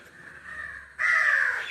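A crow caws in a home yard, begging for food: two drawn-out calls, the second louder and harsher, close by with no talking.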